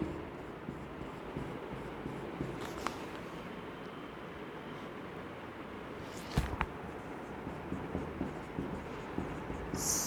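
Pen or pencil writing in a notebook during a Hindi lesson, soft scratchy strokes running steadily throughout, faint and close, with a couple of sharper taps or page sounds and no talking.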